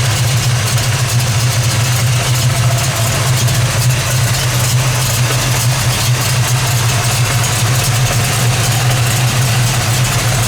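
A 1972 Plymouth Cuda with a numbers-matching 340 V8 upgraded to a six-pack idles with a steady, loud, deep rumble from a lumpy cam, running alone and close by throughout.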